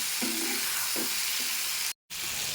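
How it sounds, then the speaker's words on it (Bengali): Ridge gourd, potato and small shrimp fry in a pan while being stirred together, a steady sizzle running throughout with a few scraping stir strokes and a brief cut near the end. "এবার সব একসাথে মিশিয়ে দিচ্ছি।"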